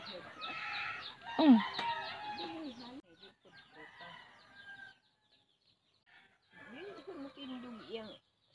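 Chickens cluck and squawk nearby in short bursts with pauses between, some louder calls standing out, and a brief voice exclaims once.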